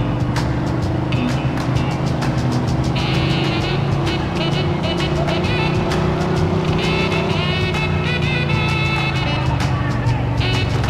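Steady loud engine roar of a speeding car in the video game Mafia 2, continuous close revving with gear-shift changes and clicks, mixed with game music and faint voices.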